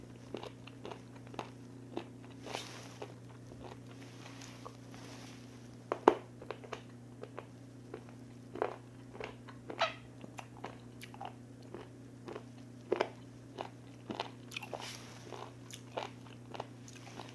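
Raw horned turban sea snail sashimi, cleaned of teeth and innards and freshly sliced, chewed close up in a quiet room: a run of soft crunchy bites and moist chomping clicks over a steady low hum, with no talking.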